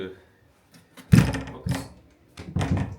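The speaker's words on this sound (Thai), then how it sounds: "ปิดประตูก่อน" A door closes in a two-bedroom condo room: a loud wooden thunk followed by a softer knock, while someone talks close by before and after.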